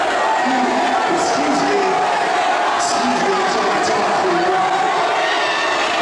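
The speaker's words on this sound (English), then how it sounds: "Oh, I don't think the crowd liked that." A pro wrestling arena crowd reacts with displeasure, a loud, dense, unbroken roar of many voices filling the whole stretch, with a few sharper shouts standing out.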